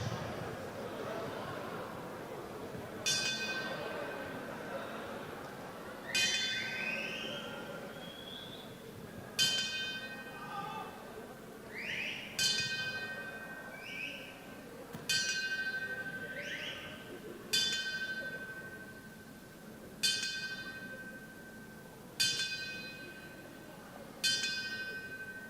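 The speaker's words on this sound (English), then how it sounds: "please stand for the traditional salute, the traditional 10 bells, as a mark of respect to Gary" Ten bell strikes rung at a live boxing event in Sheffield as a traditional salute of respect, evenly spaced about three seconds apart, each a clear ringing ding with a long decaying tail over a quiet, hushed crowd murmur.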